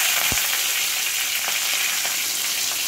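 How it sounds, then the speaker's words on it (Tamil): Thuthuvalai leaves sauté in hot oil with fenugreek for a rasam, giving a steady loud sizzle and crackle throughout, with a sharp spatula knock near the start and a few lighter scrapes later. "இப்போ தூதுவளையை போட்டு நல்லா வதக்கிடுவோம்."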